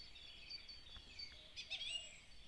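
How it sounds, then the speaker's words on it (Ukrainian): Birds sing outdoors in the morning, a few faint high chirps and short trills scattered over quiet background, with a brighter cluster of calls near the end. "Так гарно пташки співають, аж не хочеться нікуди йти"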